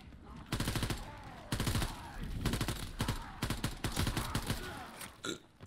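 Gunfire in a WWII Zombies video game comes in loud, rapid bursts of automatic fire separated by short pauses, close and punchy, with a few isolated shots near the end.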